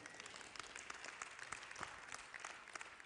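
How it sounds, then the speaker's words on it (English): A church congregation claps steadily during a live-streamed service, many hands together in a dense, even patter that fills the room without any talking. "Come on, clap your hands and say amen."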